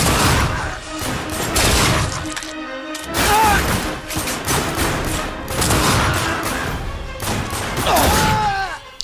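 Rapid bursts of gunfire in The Darkness II, dense volleys of shots with brief pauses between, loud and close, with other game sounds mixed in.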